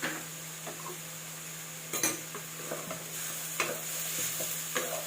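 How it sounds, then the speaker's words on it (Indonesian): Squid sambal with stink beans sizzles in a pan as a utensil stirs it, giving occasional scrapes and clinks against the metal over a steady frying hiss, close by. "Aduk-aduk lagi."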